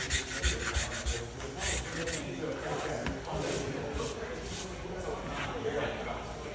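A sharp, handle-less Warner scraper blade rasps steadily across the finish of a newly finished wood floor, giving close, continuous gritty strokes while a person talks over it.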